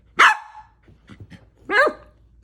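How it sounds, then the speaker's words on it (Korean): A dog barks on command, two loud, close, sharp barks about one and a half seconds apart, with a few soft grunting sounds between them. "시키면 짖는 거야."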